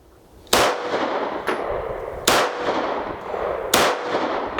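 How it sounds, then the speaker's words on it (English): A Staccato P 2011 pistol fired freehand at a silhouette target outdoors, three loud, sharp gunshots spaced over a couple of seconds, each with a short ringing decay. "going to go ahead and do some freehand shots here at the silhouette target"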